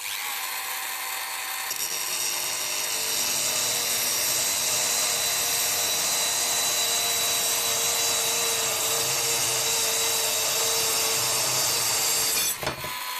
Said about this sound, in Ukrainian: Ну і спробуємо порізати метал.